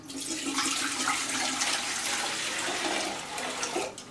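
Water poured from a container into a large pot, a steady splashing rush that runs continuously for several seconds, close and fairly loud with no voices.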